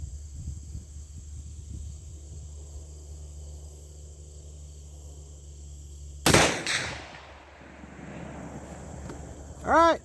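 One sharp, loud rifle shot from a case-hardened Henry 45-70 cracks out of a quiet outdoor range with crickets, followed by a short fading echo and then a brief voice.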